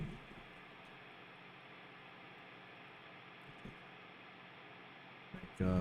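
Steady broadband white noise test signal holds evenly throughout, a flat hiss with faint clicks and a brief thump near the end.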